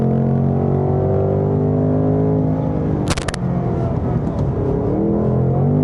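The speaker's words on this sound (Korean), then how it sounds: "그리고 트랙 배기 모드를 켰습니다" A Ford Mustang GT's naturally aspirated 5.0-litre V8 exhaust in track mode rumbles deep, throaty and loud at a steady engine speed, with a brief sharp click partway through.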